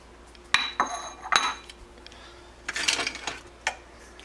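A bowl and cutlery handled in a kitchen while serving keto sloppy joes: a few sharp clinks and clatters of metal against dishware, spaced irregularly, close and fairly quiet.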